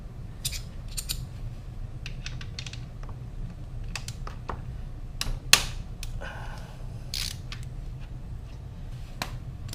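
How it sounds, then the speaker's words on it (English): A 17mm oil pan bolt on a Yamaha FZ-07 motorcycle is worked loose with a wrench, producing scattered close metallic clicks and ratcheting ticks at an irregular pace over a steady low background hum, with no talking. "the next step is to loosen this oil pan bolt"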